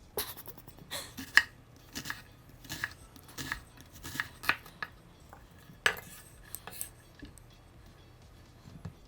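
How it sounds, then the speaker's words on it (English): A knife chops yellow onion and green pepper on a cutting board in a home kitchen, giving a quick run of sharp, uneven taps and clicks, close and fairly light, with short pauses between bursts. "I am going to chop these finely because I like beans that have some veggies in them."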